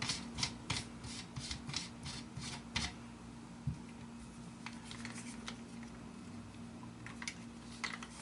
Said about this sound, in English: For disassembly, we're going to begin by unscrewing the magazine cap.